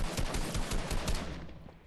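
Rapid gunfire rattles through a Fortnite match, a dense burst of fast repeated shots over loud sustained noise that tapers off toward the end, with no voices.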